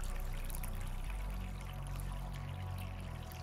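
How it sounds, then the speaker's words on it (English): Copper chloride liquid from hydrochloric acid stripping of e-waste pouring into a half-gallon funnel, a continuous loud splashing stream from start to finish. "I like to get a certain amount of this half gallon funnel filled"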